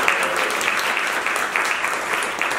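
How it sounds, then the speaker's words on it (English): A community audience claps at a public unveiling of a homelessness strategic plan, giving an even round of applause at moderate loudness throughout. "please give them a round of applause because they did a lot"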